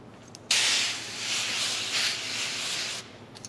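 A close hiss of water from a spray bottle bursts out during windshield tint installation, pulsing for a few seconds before cutting off abruptly.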